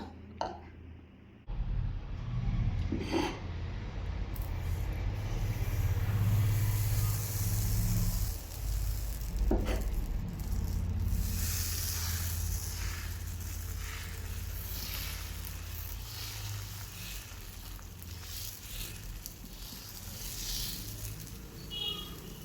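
Mulbagal ghee dosa batter poured onto a hot tawa in a home kitchen, starting a loud, steady sizzle that holds for the rest of the stretch, with a few faint clicks over it.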